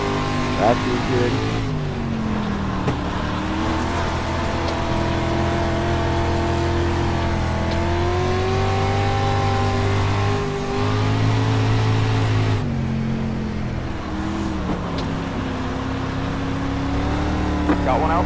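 A dirt street stock race car's engine drones and revs for a long stretch on the dirt track, pitch rising and falling as the throttle changes, with a driver's voice talking over the engine noise at times.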